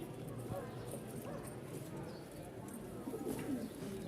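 Rajshahi Giribaz pigeons, pairs including black-and-white mixed birds, give soft cooing calls, faint and low beneath someone talking close by.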